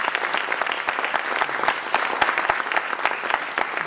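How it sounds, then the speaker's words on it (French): An audience claps for the organisers at a tenth-anniversary gathering, a full, even burst of applause with sharp individual claps standing out, sustained and close throughout. "Je pense qu'on va les applaudir."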